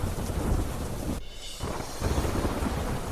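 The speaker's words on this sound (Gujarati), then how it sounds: "ફિલિપાઇન્સના મનીલાના ધોધમાર વરસાદ" Heavy monsoon rain pours down on Manila, Philippines, where floodwater fills the streets, a dense, steady roar of downpour with a brief dip partway through before surging again.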